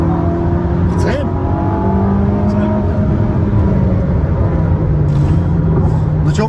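A Ferrari SF90 Assetto Fiorano hybrid sports car with about 1000 horsepower is driven in race mode, its engine humming and droning steadily inside the cabin under continuous conversation.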